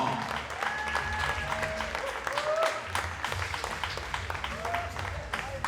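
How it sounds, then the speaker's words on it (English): Spectators at a women's 10 m air pistol shooting final applaud steadily throughout while a voice talks over the clapping. "Welcome with a big applause"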